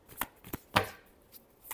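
Tarot cards get a last brief shuffle: a few soft, close riffling flicks and taps in an uneven rhythm, with no voices.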